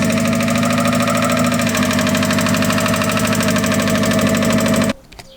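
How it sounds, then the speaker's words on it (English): A Mazda Miata engine idles loudly with a rapid, steady lifter tick after weeks without oil, running evenly close up before cutting off abruptly near the end. "This lifter tick is really loud."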